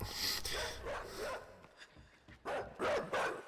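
A dog barks in the game Inside, several sharp, mid-distance yaps in a broken rhythm over a dark, rumbling game ambience.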